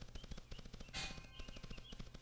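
Rapid gunfire bursts in the Cube World game, with dungeon catacombs and zombies, crackle in quick repeated shots, with a brighter louder blast midway, faint and without talking.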